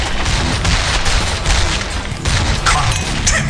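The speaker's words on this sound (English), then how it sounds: "More shooting!" Loud, close gunfire from Heroes of Newerth, a dense run of rapid shots and booming bursts that barely lets up through the whole stretch, with no talking over it.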